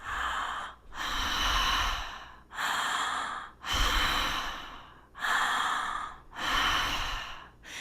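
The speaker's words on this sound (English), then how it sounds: "a deep, full inhale and exhale in and out of the mouth with no pause between the inhale" Slow, deep breaths through the mouth, inhales and exhales flowing into each other without pause, close and breathy, about six in a row.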